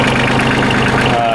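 A Kioti CK27 compact tractor's diesel engine chugging under load, a steady low rumbling knock close by with someone talking over it.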